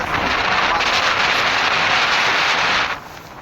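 Sea spray from a motorboat ride off Tarkarli beach in Malvan pelts the camera in a loud, dense rush of hissing and pattering for about three seconds before abruptly dropping off, with no one speaking.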